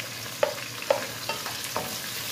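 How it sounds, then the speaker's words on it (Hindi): Minced meat frying with ginger garlic paste in a pan, a steady broad sizzle with a few sharp scraping stir strokes spaced through it, close and moderately loud with no talking. "तो सबसे पहले मैं ऐड कर रही हूँ इसमें कीमा। कीमे के बाद मैंने इसमें ऐड करना है जिंजर गार्लिक पेस्ट"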